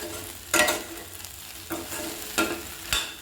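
Okra frying in a pan is stirred, four distinct scraping strokes of a spoon over a soft, continuous sizzle, close and without voices.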